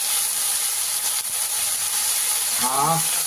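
Chicken frying with spices in a pan for chicken singara, a steady bright sizzle and hiss throughout, with a brief voice near the end.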